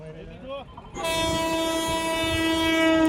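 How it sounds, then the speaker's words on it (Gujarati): A train roars in with a loud, sustained horn blast that holds steady and close, following a brief stretch of background voices. "તો મિત્રો આવી ગઈ છે ટ્રેન જોવો તમે એકવાર એની સ્પીડ જોવો"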